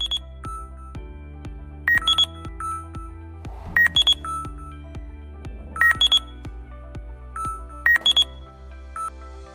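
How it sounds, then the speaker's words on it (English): Alert tones from a UIG ground scanner signal a detected void: a repeating electronic pattern of low pulsing tones with bright beeping bursts about every two seconds. The sound is moderately loud, mechanical and steady, with no voices. "the blue indicator decreases the graph with the sound indicating the presence of void"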